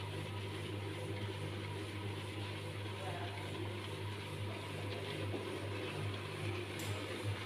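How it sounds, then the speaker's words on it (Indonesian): A hand polisher drones continuously on a marble table, with a steady low hum and whirring motor tone, unchanging throughout. "kalian bisa gunakan mesin kecil hand polisher"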